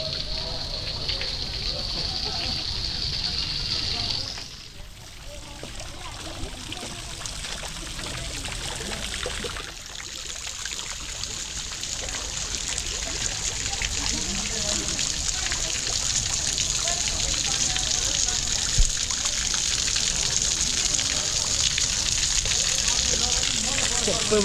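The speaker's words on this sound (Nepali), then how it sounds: "सुरुको धारो पानी हरर आइरहेको छ है।" Water gushes steadily from a stone spout at an old public fountain near Machha Pokhari in Kathmandu, a continuous loud splashing rush that fills the scene from start to end with no talk over it.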